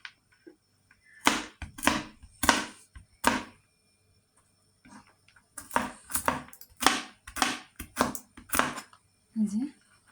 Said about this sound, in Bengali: এই যে বাদামগুলো কুচি করে নেব।